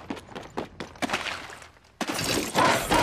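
Prowler SMG firing in a video game, quick bursts of sharp shots in a choppy rhythm, then a louder, denser stretch of fire and crashing debris near the end, close and loud.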